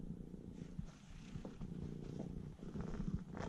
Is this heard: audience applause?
no